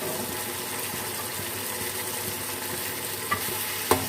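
Chicken pieces sizzle steadily in a pan of oil while being cooked for pilau, a continuous close hiss broken by two quick metallic taps of a utensil near the end, no speech.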